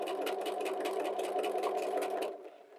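A Bernina 325 or 335 sewing machine runs steadily at constant speed on its start-stop button during free-motion quilting, a close, even mechanical whir that holds for over two seconds before winding down and stopping.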